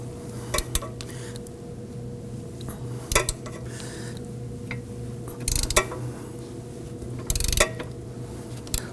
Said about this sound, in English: We're using our 19mm socket on the nut side and a 19mm boxed wrench on the other.